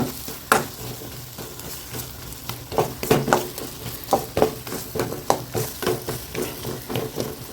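Dried fish curry spices and chilli powder sizzle in a hot pan while a spoon scrapes and stirs in steady, repeated strokes, close and continuous.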